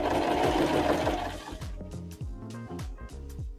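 A sewing machine stitches slowly around the bottom of a fabric bag, its motor whirring in a low, rhythmic chug, with short pauses and restarts as the fabric turns, close by and steady.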